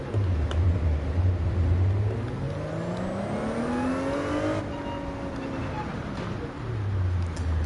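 A race car in Gran Turismo 7 sweeps past with a rising then falling engine whine, loud and close before fading, while a voice talks over the game audio.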